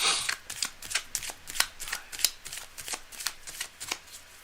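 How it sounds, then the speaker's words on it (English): Tarot cards are shuffled by hand in a rapid series of crisp riffles and flicks, close up and clear, with no talk over them. "Cards are well shuffled, but I like to do it at the last second so it feels like it's your shuffle."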